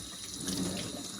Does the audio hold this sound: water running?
yes